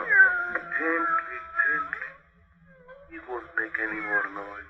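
A cat meows in an old-time radio horror drama, two drawn-out, wavering cries close to the microphone with a short pause between them, heard alone over faint background hiss.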